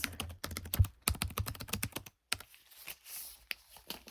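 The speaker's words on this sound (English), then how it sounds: "And then I'm just going to type some things." Fingers tap steadily on a computer keyboard in a quiet room, a close, soft run of rapid keystrokes that pauses briefly, then resumes more sparsely with a few scattered clicks.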